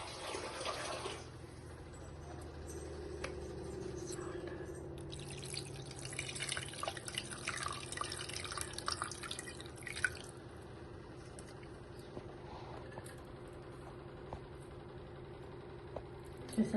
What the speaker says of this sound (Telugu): కొంచెం వాటర్ పోసేసి పొయ్యి మీద పెట్టేద్దాం.